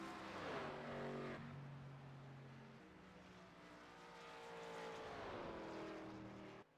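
A race car at Watkins Glen roars past with a rising and falling engine pitch and gear changes, fairly distant and faint, steady for several seconds before cutting off.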